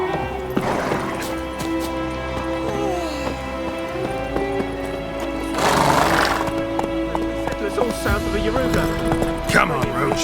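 Roach the horse in The Witcher 3 video game, with hooves clip-clopping at a gallop and a neigh breaking through, mixed with game music and voices talking over it.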